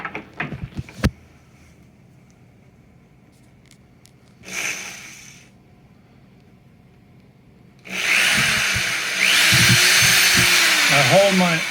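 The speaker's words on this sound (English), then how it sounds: "I can drill that kind of an angle right into that board" A power drill bores angled holes into a locked-in wooden board while building a step stool, with a loud, dense grinding burst in the last few seconds after quiet handling noises and brief talk.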